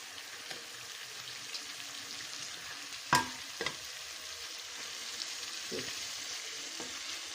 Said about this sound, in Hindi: इसमें मैं अब टमाटर ऐड कर रही हूँ।